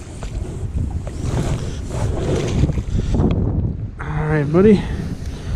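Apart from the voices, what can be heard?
wind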